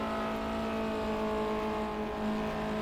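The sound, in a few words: BMW car engine in the video game Project CARS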